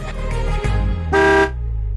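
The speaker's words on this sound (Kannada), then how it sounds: "ಹಾರನ್ ಶಬ್ದ ಆಯ್ತು, ಅವನೇ ಬಂದ ಅನ್ಸುತ್ತೆ" A car horn honks in two short blasts, the second longer and louder, sounding close by over a low engine rumble.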